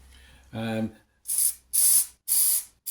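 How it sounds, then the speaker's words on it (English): Aerosol spray applied in short patches while laying static grass on a model railway layout: a voice speaks briefly, then three loud hissing bursts of about half a second each follow with short gaps between them. "I'm going to spray in little patches."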